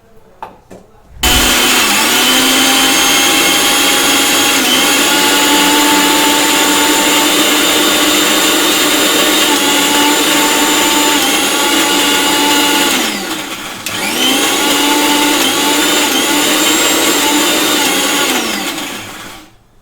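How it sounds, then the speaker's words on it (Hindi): A mixer grinder whirs loudly and steadily, grinding sesame seeds with a little water into chutney, with a brief dip in the motor's pitch partway through before it resumes at full speed. "और आप इसमें हल्का सा पानी डाल के इसे ग्राइंड कीजिएगा।"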